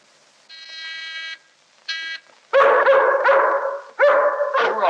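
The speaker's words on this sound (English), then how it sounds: "Don't like the sound of that dog." A guard dog barks repeatedly and loudly, in sharp overlapping bursts, following two buzzing tones at the start, with no talk.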